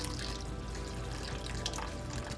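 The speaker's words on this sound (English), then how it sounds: "put the warm filtered water in" Warm filtered water pours into a bowl on a kitchen scale for sourdough bread, a steady soft trickle heard close up for a couple of seconds.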